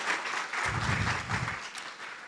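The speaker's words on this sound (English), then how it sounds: "just give them a round of applause" Faint, distant audience applause at a business meeting, a soft wash of clapping lasting a couple of seconds.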